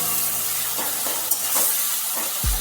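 Boiled radish and eggplant hit hot oil tempered with fennel seeds, giving a steady close sizzle and hiss, broken by a few soft stirring scrapes and a low knock near the end.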